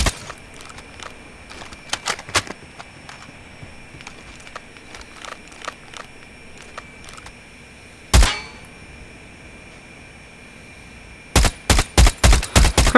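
Gunfire in the Call of Duty Mobile video game: scattered single shots and quieter clicks, one louder blast, then a rapid rhythmic burst of loud shots near the end.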